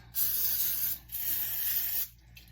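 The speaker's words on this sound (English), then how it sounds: "Go ahead and spray it." Oil sprayed over homemade Jamaican beef patties dusted with paprika, two close, loud hissing bursts of about a second each with a short pause between them.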